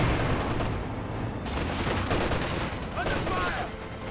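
A Jackson tank destroyer fires at Panzer Fusiliers in a Company of Heroes 2 battle, a loud, continuous barrage of gunfire and explosions with no pause.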